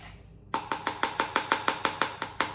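A handheld stirrer whizzes vanilla into scone mixture as a quick run of about a dozen sharp, evenly spaced rattling pulses, close and fairly loud, over a brief moment.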